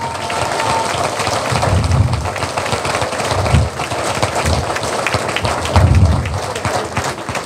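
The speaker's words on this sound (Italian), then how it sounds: "Volevo solamente un applauso per Pino Pipitone," An audience at an open-air political rally in Petrosino applauds a former mayor, a dense, loud, sustained wash of clapping that swells in waves and continues without a break.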